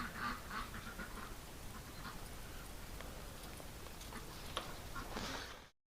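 Ducks quack faintly in the distance over a steady noisy background, with occasional soft ticks, before the sound cuts off.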